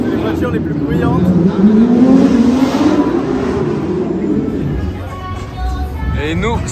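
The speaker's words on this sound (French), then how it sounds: "c'est la Porsche Cup qui va démarrer là. La course de Porsche Cup, c'est les voitures les plus bruyantes." Porsche Cup race cars starting at the Monaco Grand Prix, a loud, sustained engine roar with rising revs and passing cars close by, fading slightly toward the end.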